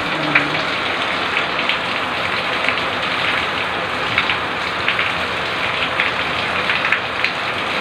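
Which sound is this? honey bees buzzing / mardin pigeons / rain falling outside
rain falling outside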